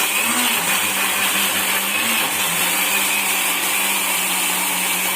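Mixer grinder blending ginger, garlic, chilli, onion and tomato into a paste, a loud continuous motor whine with a grinding rasp and a slight pitch wobble, running without voices.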